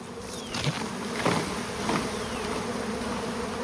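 Honey bees buzz steadily close by during queen grafting in an opened hive, a dense droning hum with a few louder swells as individual bees pass near.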